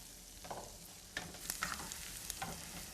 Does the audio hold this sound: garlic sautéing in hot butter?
yes